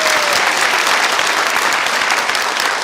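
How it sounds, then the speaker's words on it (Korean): A crowd at a Mokpo mayoral campaign event claps for a family member being introduced. The applause is loud, dense and steady, with no break across the whole clip. "박수 한번 쳐주십시오."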